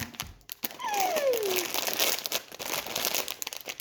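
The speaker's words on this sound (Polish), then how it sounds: "Otwieramy sobie pudełeczko." Packaging crinkles and tears loudly up close as an AliExpress box with a Labubu figure is opened, a busy stretch of rustling with a brief squeak.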